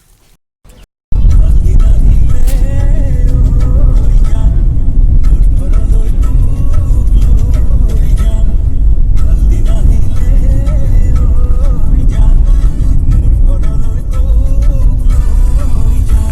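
A car drives along a road near a picnic spot in Lakhimpur, Assam, giving a loud, steady engine and road rumble that lasts throughout, with people talking over it.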